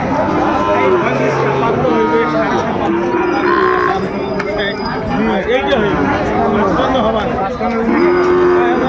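Several Sahiwal bull calves low in overlapping moos at a crowded cattle market, close and loud, with people talking throughout.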